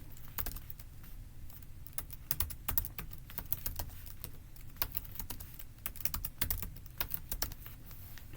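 Someone types a password on a computer keyboard in quick, irregular bursts of crisp key clicks. The keystrokes sound close and continuous over a soft low background hum.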